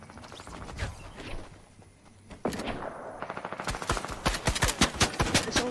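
Rapid bursts of gunfire from the video game Fortnite during a squads match, starting as scattered shots and building into loud, dense strings of automatic fire in the second half.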